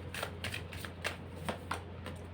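Tarot cards are shuffled and drawn, giving soft, quick riffling flicks in an irregular rhythm, fairly quiet over a steady low hum.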